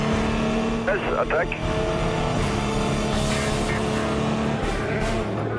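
Le Mans prototype race cars, an Audi and the number 9 Peugeot, roar continuously at high revs as they fight for position, a loud, steady engine drone with shifting pitch while a voice speaks briefly over it.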